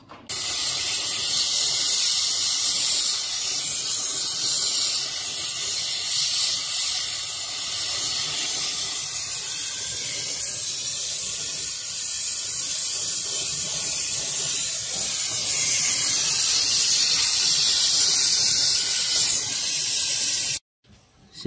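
A steady, loud roaring hiss from a torch brazing a refrigeration leak on a cold-storage unit with a brass rod. It runs continuously at close range for about twenty seconds, then cuts off abruptly near the end.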